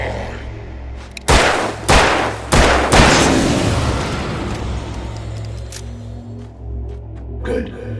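Several sharp gunshots ring out in quick succession in the Alan Wake video game, each with a loud crack and a long echoing tail, over a low rumbling ambient drone.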